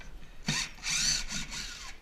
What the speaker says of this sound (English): I'm using an impact driver.